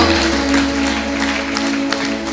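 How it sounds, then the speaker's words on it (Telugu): A church congregation claps loudly during a worship service, a dense, continuous patter of many hands over sustained musical tones. "గట్టిగా చప్పట్లు కొట్టాలా."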